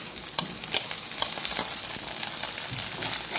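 A carrot dish frying in a pan in a village-style kitchen, a soft continuous sizzle broken by the occasional scrape and clink of stirring, with nobody speaking.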